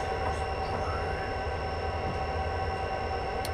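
A heavy freight train in the Train Simulator 2016 game rumbles along the Soldier Summit line from Provo to Helper with a steady engine drone, rail noise and faint tonal hums, continuous and close.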